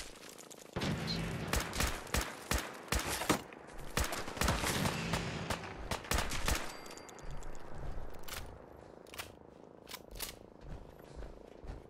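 Rifle gunfire in Fallout 4 VR: a dense volley of sharp, loud shots fired in quick succession, then a few sparser reports as the firing tapers off.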